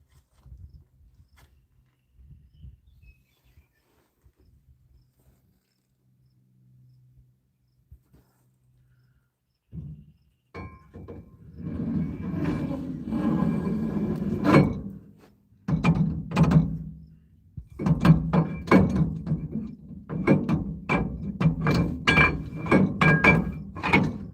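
A rear axle slides back into a Ford F150 rear differential, with scraping, metallic clunks and sharp knocks building up, close and without speech.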